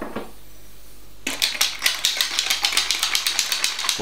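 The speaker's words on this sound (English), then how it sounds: "Give it a bit of a stir." A spoon stirs Pimm's in a jug, making rapid, regular clinking taps against the glass that start abruptly and continue steadily and close by.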